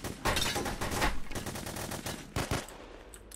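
Rapid automatic gunfire from several weapons in the video game The Hidden, magazines emptied in a continuous loud stream of shots with brief gaps, close and dense throughout.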